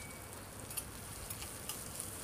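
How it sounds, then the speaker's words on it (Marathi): Coarsely chopped onion fries in oil in a wok, giving a soft, steady sizzling hiss with a few faint pops, quiet and without voices. "हा कांदा आपल्याला तेलामध्ये छान असा लालसर रंग येईपर्यंत फ्राय करून घ्यायचा आहे"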